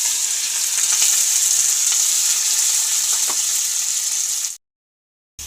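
Boiled cauliflower stalks sizzle steadily in a hot pan, a dense close frying hiss with faint scrapes, running evenly for over four seconds before cutting to silence.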